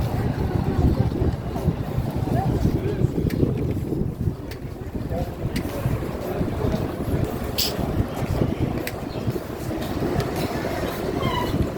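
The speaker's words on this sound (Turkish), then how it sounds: "Biraz rüzgar çıktı. Esiyor." Steady wind rushes and buffets against the microphone outdoors in a coppersmiths' bazaar in Gaziantep, a continuous low roar with occasional faint clicks and no clear talk.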